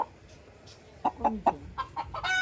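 A chicken clucks in a short run of sharp, separate pulses that grow quicker and louder, with soft background noise before them.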